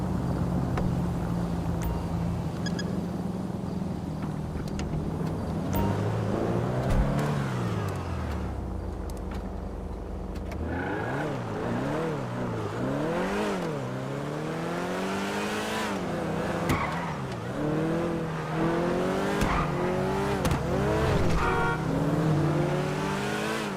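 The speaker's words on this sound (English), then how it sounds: "Look at that Testarossa." A Ferrari Testarossa driving in GTA Online, engine idling low then revving and accelerating through repeated rising and falling gear pulls, close and loud with little talk.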